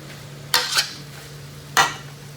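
A spoon stirs a vegetable and carrot filling in a pan, giving three quick scraping strokes, two close together and one after a pause, over a low steady hum with no talk.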